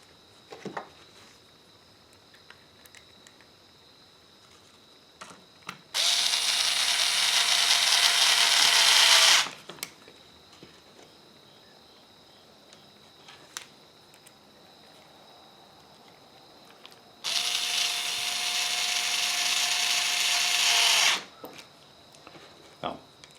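A power driver runs screws into an RC car base plate on a ZD Racing Pirates 3, two loud whirring bursts of about three to four seconds each, separated by quiet stretches with small clicks and handling sounds.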